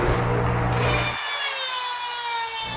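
A Dremel rotary tool grinds through a part on an intake, giving a high, rasping whine that shifts pitch as it bites into the material, loud and close with no talking.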